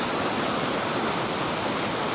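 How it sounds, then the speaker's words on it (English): The River Valency at Boscastle rushes past close by, a loud, steady, broadband wash of flowing water with no pauses. "This is what you call flowing water"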